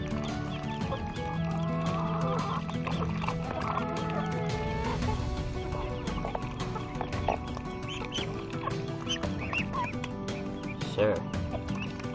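Several chickens cluck and chatter close by, with scattered squawks and other farm noises over a busy background.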